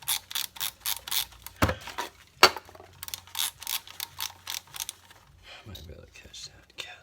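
Rapid ratchet clicking in quick bursts as bolts come off the valve body of a 2004 Mercedes SLK 320, with a couple of sharper knocks and a softer pause near the end.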